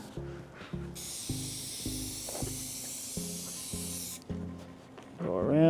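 A long aerosol spray of contact cement hisses for a few seconds, close by, over a rhythmic rasping and knocking pattern, ending with a brief muffled voice.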